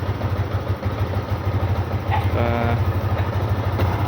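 A reconditioned motorcycle engine idles quietly and steadily after injector installation, a low rhythmic chug with a brief mechanical tone partway through.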